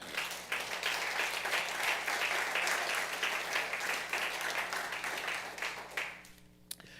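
A church congregation applauds at a worship service, dense sustained clapping filling the room for about six seconds before tapering off near the end.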